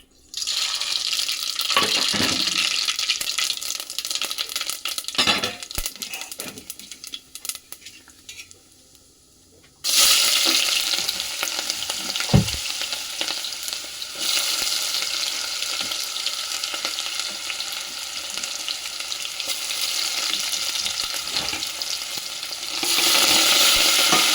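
Onion frying in oil in a home kitchen gives a loud hiss with scraping stirs and utensil clinks, dropping quieter for a few seconds before surging back into a strong, steady sizzle.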